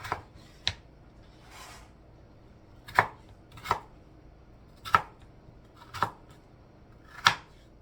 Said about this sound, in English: I'm not done chopping up my potatoes